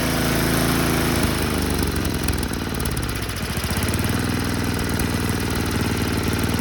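A Toro snowblower engine idles steadily with the choke still on, a loud, close, continuous rumble that dips slightly midway and then settles back to an even run.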